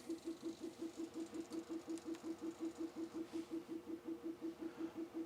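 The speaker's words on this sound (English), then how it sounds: "If you can hear that in the background, that's my 3D printer just printing off a" A 3D printer runs in a garage workshop, giving a faint, steady, rapidly pulsing whir with a regular mechanical rhythm, distant and quiet in the background.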